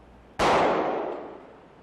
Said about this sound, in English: By shooting this jacketed hollow point bullet into a block of ballistic gelatin, we can show how the bullet expands.